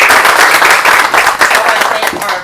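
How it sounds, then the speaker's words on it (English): An audience at a candidate event claps for the candidates, dense, loud applause filling the whole moment without pause, many hands at once close to the microphone. "Give them a round of applause."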